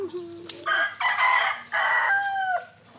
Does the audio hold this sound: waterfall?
no